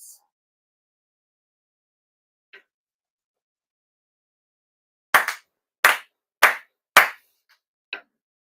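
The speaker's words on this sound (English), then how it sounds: "4 sincere claps" Four sharp ritual hand claps at a Konko Kyo end-of-year purification service, evenly spaced about half a second apart, with one fainter clap following, in an otherwise quiet hall.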